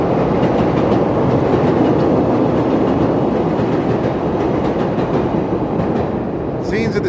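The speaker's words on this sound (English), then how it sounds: "here we got another L train going by," A Chicago L elevated Orange Line train rumbling past on the tracks, a loud steady roar with rhythmic wheel clatter that eases slightly toward the end, with a voice speaking over it.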